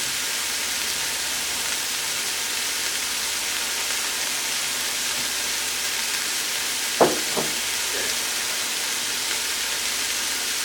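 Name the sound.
vegetables sizzling in a vegan beef and broccoli stir fry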